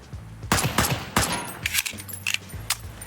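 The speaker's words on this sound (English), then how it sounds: "Again, same sort of gun sound that I'm hearing here." USP pistol shots in a sandbox video game: a run of about eight sharp, close reports fired in irregular bursts, some landing quickly in pairs, with a brief metallic jingle between them.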